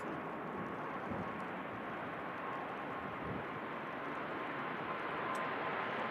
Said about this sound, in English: Ryanair just landing in from Rome